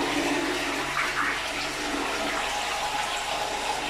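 A hotel toilet at an inn in Virac, Catanduanes flushes with a loud rushing gush of water that settles into a steady refill swirl, heard close and alone.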